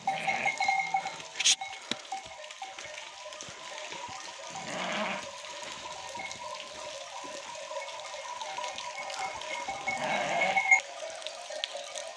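Young goats and sheep are driven along on a high village mountainside in the rain, with scattered bleats near and far, faint clinking bells and a soft outdoor background.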